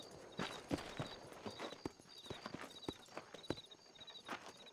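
Horse hooves clip-clop at an easy, uneven walking rhythm in the video game Red Dead Redemption, soft and fairly distant with a quiet ambient background.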